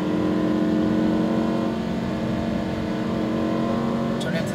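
Lamborghini Huracan under sustained throttle on a race track, its engine droning steadily and loudly at close range from inside the car, while an instructor talks over it.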